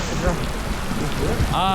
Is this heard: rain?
yes